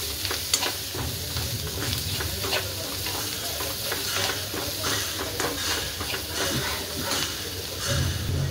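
Sliced onion frying in oil in a pan until red-browned, with turmeric added, for a Maharashtrian besan: a dense, close sizzle with repeated scraping stirs and light spatula clinks, steady throughout without talk.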